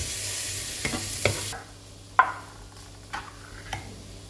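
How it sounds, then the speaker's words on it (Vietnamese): Pineapple is stir-fried with garlic and lemongrass in a pan: a loud sizzle for the first moments, then quieter frying with a few distinct scrapes and taps of the spatula. "Tiếp tục mình sẽ cho hết khóm vào, xào cho đến khi nào khóm chuyển sang trong."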